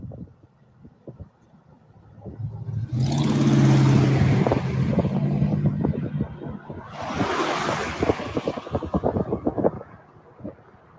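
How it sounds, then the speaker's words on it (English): A car pulls up and arrives outdoors, its engine and tyre noise rising in two broad swells over steady wind and surf-like rumble, close and fairly loud with no talking. "the car just got back"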